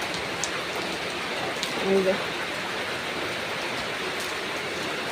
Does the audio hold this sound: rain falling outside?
yes